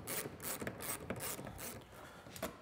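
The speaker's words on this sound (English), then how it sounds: "I'm gonna go ahead and remove the two screws that holds the upper dash on" A ratchet driver backs out T40 Torx screws from the upper dash of a Polaris RZR XP 1000, a quiet, rapid clicking whir in close, uneven bursts with no talk.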